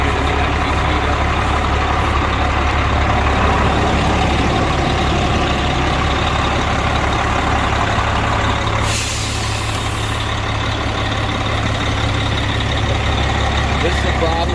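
An old carbureted Ford L Series truck runs steadily, a loud, continuous low engine rumble close by with a brief hiss partway through.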